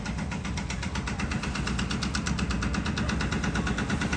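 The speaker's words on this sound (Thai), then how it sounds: "ก่อสร้างอยู่ตรงนั้นนะฮะเขาทำถนนอยู่เจาะเนี่ยให้ดู" Steady mechanical drilling rumble from road construction, with a rapid rhythmic pulsing, loud and continuous, no voices.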